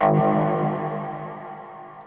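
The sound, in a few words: sampled synth bass step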